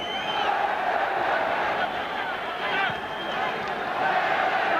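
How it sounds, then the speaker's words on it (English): Boxing crowd roaring and cheering during a professional fight, a dense continuous wall of shouting and whooping that swells and stays loud, with no clear talk standing out above it. "It sounds almost like a bullfight now, with the crowd cheering every move of Tiozzo, and the decibel level getting higher"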